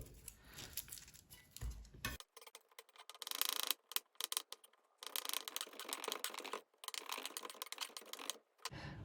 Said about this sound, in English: We will also cut up our two garlic cloves nicely.